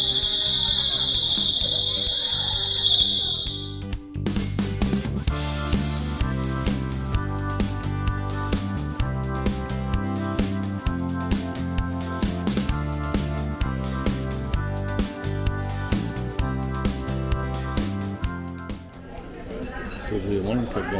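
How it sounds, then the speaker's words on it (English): An alarm goes off inside the Bush's Beans museum, giving a shrill, steady high-pitched tone for the first few seconds before it cuts out and music takes over. "So the alarm kept going off, and finally got it shut off."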